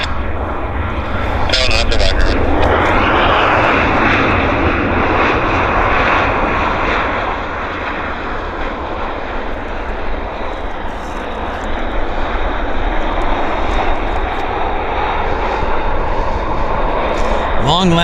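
Airplane landing at Vancouver International Airport, a steady broad engine and airflow roar holding loud for the full stretch with a slight dip midway, with people talking faintly underneath.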